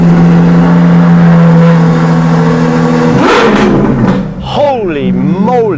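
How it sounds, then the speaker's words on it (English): A Ferrari Monza engine on its stock exhaust, without a Novitec system, runs at a loud steady idle drone that swells into a sharp rev, then rises and falls in wavering pitch sweeps in a Dubai showroom. "This does not have a Novitec exhaust system. Listen to the sound."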